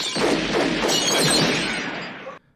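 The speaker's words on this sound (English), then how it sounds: "They run and find out it's just some kids shooting at bottles" Glass bottles shatter as kids shoot at them in a film, a loud dense burst of breaking glass and crashing debris that runs continuously for over two seconds before cutting off abruptly.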